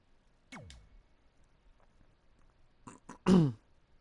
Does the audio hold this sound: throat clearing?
yes